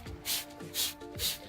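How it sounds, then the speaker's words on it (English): Three short hissing bursts of cleaner spray on the moldy roof of a 1999 Mazda Miata, evenly spaced and close by, each preceded by a soft trigger click over a low steady hum. "So just gonna keep spraying it for now"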